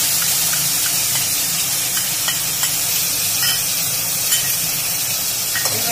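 Spice paste hits fried potatoes in a pan for a broccoli and potato sabji, giving a steady, close hiss and sizzle with occasional spatters and stirring scrapes.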